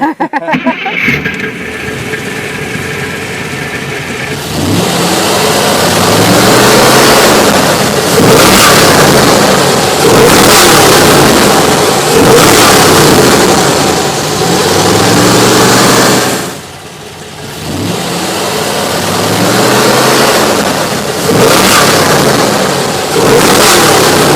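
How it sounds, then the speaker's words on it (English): A 1963 Corvette Stingray V8 engine roars loudly, revving up and down in repeated throaty bursts, with a short dip before climbing again. "So Jay, why don't you rev up the engine?"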